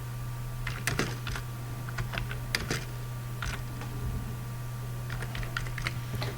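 Someone types on a computer keyboard in short irregular bursts of crisp key clicks over a steady low electrical hum, with no voices.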